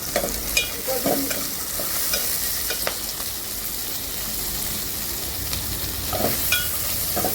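Garlic sizzling and frying in a pan while being stirred, with scraping strokes over a steady crackle during village-style home cooking of gongura chutney.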